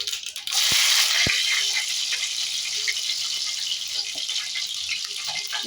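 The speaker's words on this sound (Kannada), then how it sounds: "ಬಿಡಿಸಿ ಜಜ್ಜಿಟ್ಕೊಂಡಿರೋ ಬೆಳ್ಳುಳ್ಳಿ ಹಾಕೋತಾ ಇದ್ದೀನಿ" Crushed garlic dropped into hot oil for a tempering, giving a bright, steady sizzle that jumps up loud after two sharp knocks and then settles into a continuous close frying hiss.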